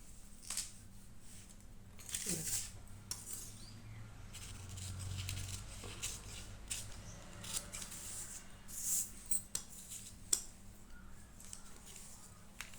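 Scissors snip through paper while cutting a katori blouse pattern: quiet, close, intermittent crisp cuts and rustles spread irregularly over a calm background.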